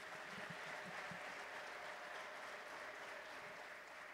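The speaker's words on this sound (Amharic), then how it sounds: "ለጌታ ከፍ ያለ ክብርና እልልታ አምጡ እስቲ።" A church congregation applauds and ululates in praise during a sermon, producing loud, dense, continuous clapping and cheering that fills the whole stretch without pause.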